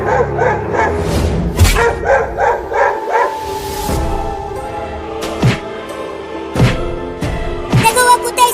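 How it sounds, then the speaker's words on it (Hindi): Cartoon dogs bark and yip repeatedly, loud and close, with sharp thumping hits mixed in and busy, clamorous background sound. "वो कुत्ते उस लकड़ी के घर के सामने भौंक रहे हैं।"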